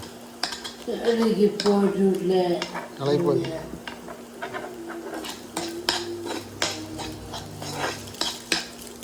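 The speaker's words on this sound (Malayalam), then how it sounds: "ഞാനിതിട്ട് ഇളക്കുന്നത് മുട്ട എല്ലാം ഒന്ന് ഉടച്ചിടാം" Eggs stirred and broken up in a frying pan with a metal utensil, giving scraping and tapping clinks against the pan over a faint sizzle, while someone talks throughout.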